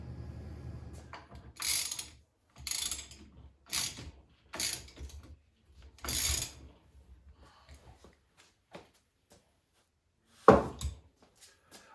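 Ratchet turning a 13/16 nut on a GM/Saginaw steering column, several short bursts of rapid clicking in an irregular rhythm, then quieter ticks and one sharp final click, close and clear, no talk.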